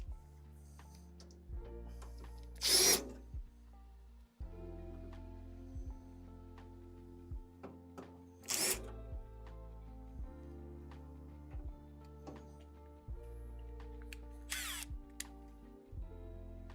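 A power drill removes the bottom screws during a Skywalker V1 coffee roaster mod, with short bright drill bursts near 3, 8.5 and 14.5 seconds over a steady low electrical hum, and no talking.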